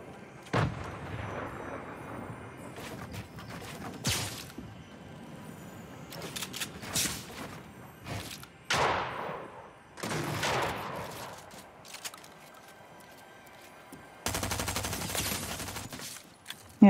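Loud gunshots from Fortnite gameplay ring out in separate bursts and single sharp cracks with quieter gaps between, some shots trailing off in echoing tails.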